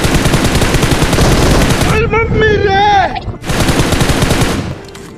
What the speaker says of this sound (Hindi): तभी सामने से कुछ फायर्स की आवाज़ सुना दिया